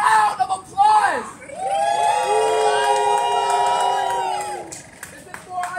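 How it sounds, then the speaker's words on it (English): A crowd at an outdoor rally over the overdose crisis erupts in loud cheering. Rising whoops and shouting voices ride over a steady wash of noise and scattered clapping, then taper off. "Give yourselves a round of applause!"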